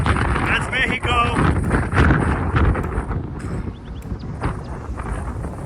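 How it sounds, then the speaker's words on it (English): Strong wind gusts on the banks of the Rio Grande in Big Bend National Park, loud buffeting and rushing across the microphone throughout, with people talking underneath. "I think there's hurricane force wind gusts today."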